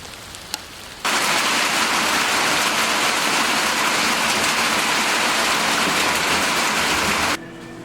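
Steady rain pours loudly onto a surface outside a farmhouse during a stormy spell. A dense hiss starts suddenly, holds evenly for about six seconds, then cuts off.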